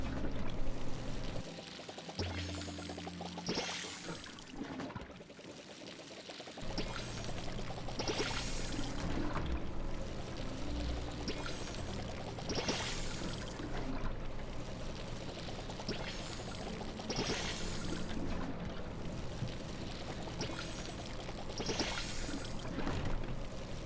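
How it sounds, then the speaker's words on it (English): Water poured from a watering can onto crops in the video game Palia, a steady hissing pour repeated in several bursts with short gaps, fairly loud and without talk. "And then let's water all these crops."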